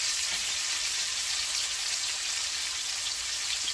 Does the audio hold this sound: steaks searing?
yes